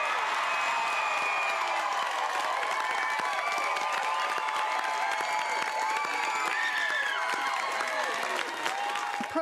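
Crowd of about 200 people at a protest turned celebration cheering and clapping steadily, a dense wash of voices and whistles that stays loud and continuous throughout.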